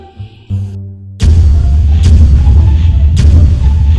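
A giant toy sniper gun fires at a bottle, three loud, close booming shots about a second apart over a steady low rumble, preceded by a brief tonal musical sting.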